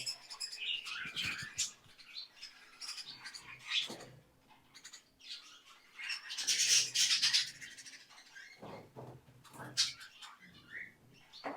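Several doves and other small birds on a bird farm chirp and call in irregular bursts, close by and fairly busy, with some rustling between calls.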